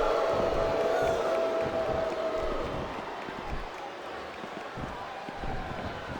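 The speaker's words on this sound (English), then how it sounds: "It sounds like this capacity crowd is something on their minds" A capacity arena crowd in the WWE SmackDown! vs. RAW wrestling game roars in a steady, loud wash of cheering that fades slightly, with no clear voices over it.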